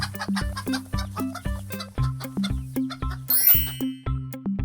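A chicken clucks in a steady rhythmic series of short calls over a bright chiming melody, fairly close and clear.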